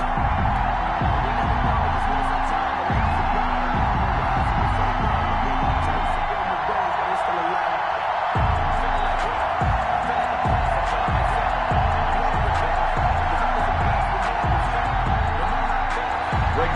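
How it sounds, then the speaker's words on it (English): Stadium crowd in Madden 21 before a Dallas Cowboys versus Carolina Panthers game, a steady roar of cheering that carries throughout under a commentator's voice, with a rhythmic thumping beat underneath. "This crowd is ready as their guys get set to match up between the Dallas Cowboys and the Carolina Panthers."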